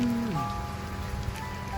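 Steady rain falls during a flood in the Laos–Thailand border area, a dense, even hiss with low rumbling underneath and a faint tonal hum, no voices.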